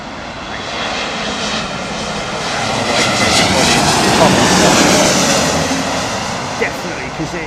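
A model jet aircraft engine runs steadily outdoors at a paddock, a broad loud roar that swells gradually toward the middle and eases off slightly, with a faint voice in the background.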